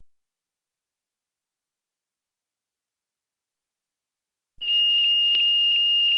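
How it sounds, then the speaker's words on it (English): Aircraft lavatory smoke detector alarm: after several seconds of silence a loud, steady high-pitched electronic tone switches on abruptly and holds unbroken to the end. "A single smoke detector is located in each lavatory."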